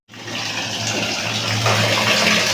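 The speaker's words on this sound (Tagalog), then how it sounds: "nagre-refill na tayo ng tubig sa water tank." Water gushes steadily into a freshly cleaned water tank after passing through a two-stage filter, a continuous rushing fill that builds slightly louder partway through, close and alone with no talk.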